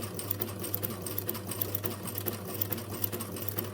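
A sewing machine stitches a small doll garment, running steadily, its rapid mechanical stitching close and even with a constant motor hum, no voices.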